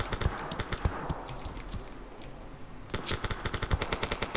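Rapid bursts of gunfire crackle through a Roblox military war game, dense clattering volleys near and loud, thinning briefly mid-clip before another heavy flurry of shots erupts.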